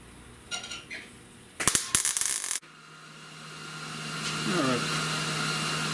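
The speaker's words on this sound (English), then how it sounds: "I want to come in and just put a couple of tacks on here" Tack welds go onto a rusted radiator core support as a short, loud crackling buzz lasting about a second, followed by a steady mechanical hum.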